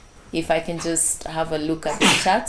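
A single sharp sneeze bursts out right after a short stretch of talking, loud and close.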